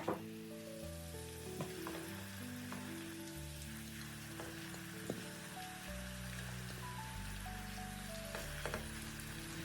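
Peppers, tomatoes and halved potatoes frying in a pan with tomato paste give a steady, close sizzle that continues throughout, with music playing over it.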